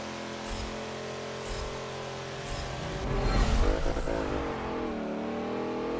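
A stock Dodge Challenger SRT8 rental car engine in the Forza 7 racing game, sliding through a drift with a sustained loud engine drone that swells into a rev partway through, with no talk.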